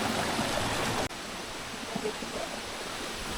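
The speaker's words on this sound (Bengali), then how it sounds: "ওইখানে ঝর্ণাটা কিন্তু দেখা যায় বেশ ভালো পানি আছে" A waterfall stream on the rain-swollen Boalia trail in Mirsarai rushes in a loud, steady wash of water, close and continuous, with a brief break in the sound near the start.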